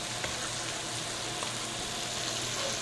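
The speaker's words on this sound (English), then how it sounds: "So we've got our onions cooking away." Chopped onions frying in a pot with rendered fat for a chili mushroom soup, a soft, steady, even sizzle with no talking.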